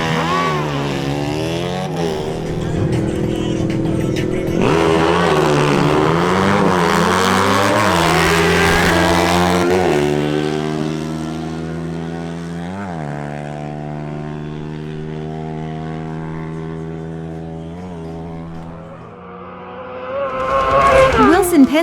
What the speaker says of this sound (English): Wilson Penzo on his Suzuki GSX-R1000 makes another pass alongside Diego Arrieta's Pulsar